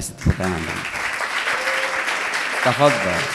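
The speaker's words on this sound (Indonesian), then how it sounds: "Kasih tepuk tangan dulu." Audience at a religious lecture clapping steadily for a few seconds, with a speaker's voice briefly audible over the applause at the start and again near the end.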